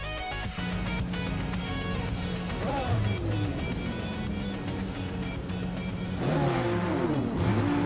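A 2015 Rebellion R1 LMP1 prototype launching at the race start at Algarve in a racing game, engines droning steadily then rising in pitch as several cars accelerate near the end.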